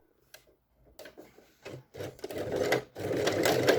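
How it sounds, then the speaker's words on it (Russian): Domestic sewing machine stitching a seam along a fabric belt with a buckle, starting from one end: a short start, pauses, then steadily louder continuous whirring and needle clatter, close and alone. "И теперь начинаю делать строчку с этого конца пояса."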